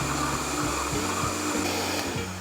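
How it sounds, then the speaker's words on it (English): A blender crushes ice with ice cream for matcha green tea bingsu, a loud, continuous motor roar with a grinding, rhythmic churning as the ice breaks up, close by. "we're gonna slowly start adding our ice into the blender"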